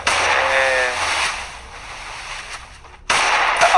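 Desert Eagle pistol shots in Free Fire, a couple of sharp cracks heard loud and close amid game noise, with a quieter gap before another burst.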